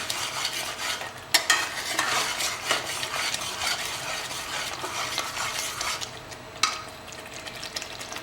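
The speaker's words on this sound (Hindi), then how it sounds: "इसे बढ़िया भून लेते हैं हम अभी" Goat rib mutton masala with yogurt being stir-fried in a pan, a steady sizzle under repeated scraping and clinking of a utensil against metal, close and fairly loud, with sharper knocks now and then and no voices.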